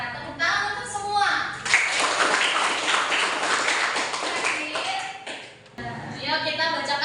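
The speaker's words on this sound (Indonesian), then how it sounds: "Ya, tepuk tangan untuk semua." A class of children in an Indonesian school lesson bursts into clapping for about four seconds, with voices talking just before and after the applause.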